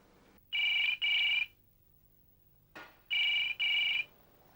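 A telephone rings at home in two double bursts of bright electronic trilling, separated by a pause with a soft click between them.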